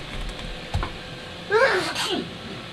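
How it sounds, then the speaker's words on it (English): A single sharp human sneeze at close range, a short intake followed by an explosive burst, standing out clearly over quiet room background. "I had to sneeze."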